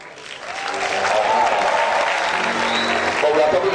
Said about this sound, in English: And let's see if you clap for him